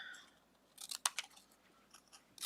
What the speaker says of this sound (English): I cut little triangles like this.